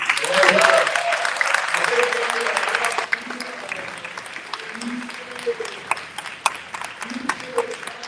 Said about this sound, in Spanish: primeramente quiero dar un aplauso a la juventud